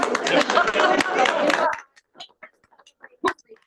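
A short burst of applause at a DMB board meeting, several people clapping together for under two seconds before it stops, followed by scattered quiet talk in the room.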